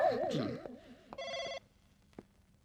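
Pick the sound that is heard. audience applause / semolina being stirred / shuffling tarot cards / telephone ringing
telephone ringing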